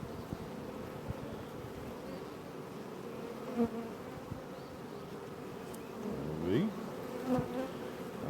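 Honey bees buzzing around a flow hive set on a brood box outdoors, a dense, steady drone of many insects close by, with a brief faint voice partway through.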